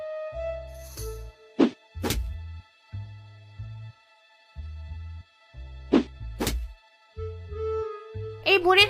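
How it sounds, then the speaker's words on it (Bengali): Cartoon stones thrown at a mango tree land as several hollow thunks and whacks, spread irregularly between stretches of animated voices talking. "আরো কয়টা ঢিল ছুঁড়ে দেখি"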